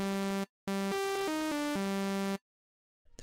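Tech house synth melody of bright, buzzy sustained notes stepping between a few pitches, starting with a short stab, then a gap, then a longer phrase that cuts off, clean and alone with no talking.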